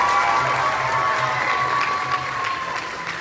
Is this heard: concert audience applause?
yes